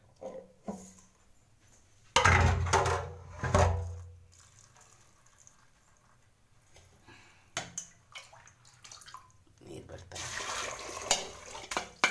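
A kitchen tap runs in loud gushing bursts as field beans and capsicum are rinsed, the water splashing strongly, pausing, then starting again, with a voice speaking between the runs.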